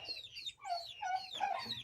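Four young farm-hatched hens cluck in a series of short, lively calls close by, with no talk.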